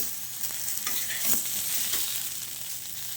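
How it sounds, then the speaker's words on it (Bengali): Pointed gourd frying in oil with salt and turmeric, a continuous bright sizzle with faint stirring scrapes, close and steady throughout. "এখানে আমি নুন হলুদ দিয়ে দেবো, দিয়ে ভালো করে পটলটাকে ভেজে নেব।"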